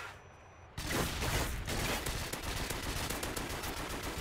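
Gunfire in Call of Duty MW3 on the Wii, an online multiplayer match: after a brief quiet start, a dense burst of rapid shots erupts and continues as sustained, loud automatic fire.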